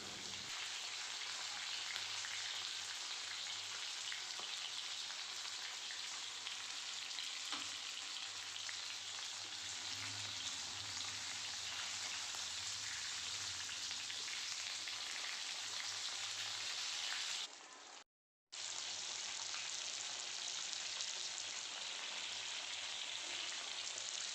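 Fish frying in a pan over medium heat, a steady close hiss and sizzle with faint crackle throughout and one brief dropout near the end.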